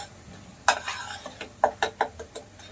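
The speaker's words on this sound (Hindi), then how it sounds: "ये जो सूखा मसाला डाल रहे हैं" Dry masala blend of pav bhaji, sambar and chaat masala going into a pan for paneer lababdaar, then stirred: a handful of sharp scraping clinks of a spoon against the pan over a faint sizzle.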